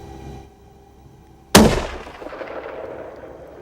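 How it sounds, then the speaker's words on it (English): A single loud, sharp rifle shot at a four-point buck during an outdoor deer hunt, following quiet ambient sound and then a long echoing decay. "Shoulder shot. That was perfect."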